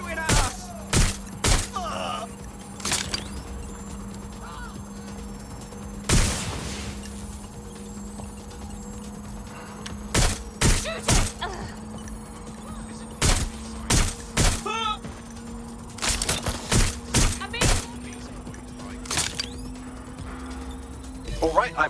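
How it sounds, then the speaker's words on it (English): Gunfire erupts in the video game Watch Dogs Legion: sharp, loud shots scattered in bursts and clusters over a steady background hum, with voices speaking in between. "They're shooting at us!"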